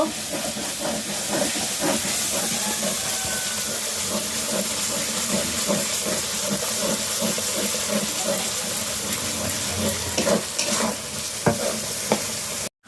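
Chicken curry with green chillies frying in a pan as a spoon stirs it, a steady close sizzle with scraping stirs and light watery bubbling throughout, no talking.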